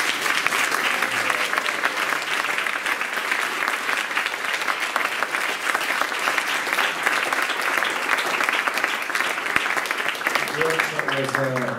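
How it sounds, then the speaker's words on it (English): An audience at a Vyasapuja celebration for a swami claps in steady, sustained applause for about twelve seconds, with a voice briefly audible near the end. "Can we give a big round of applause to His Holiness Kadamba Kanana?"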